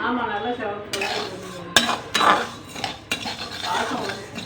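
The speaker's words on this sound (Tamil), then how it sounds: "நம்ம எடுத்து வச்சுருந்த புழுங்கல் அரிசியை வாசனை வர வரைக்கும் வறுத்து எடுத்தாச்சுங்க" Parboiled rice being dry-roasted in a metal pan, with spoon scrapes and clinks against the pan in irregular bursts, close and fairly loud, with little sizzle.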